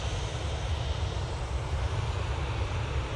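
A TUI airliner departs, its aircraft engines making a loud, steady, close roar that fills the whole stretch without letup.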